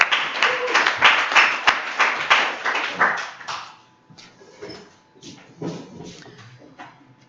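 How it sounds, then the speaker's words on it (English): Applause from a meeting audience welcoming a speaker at a student organization's general body meeting, several seconds of clustered claps that thin out and fade to scattered taps as talk resumes. "how about a round of applause for our very own conferences and education chair, Andrew Brooke."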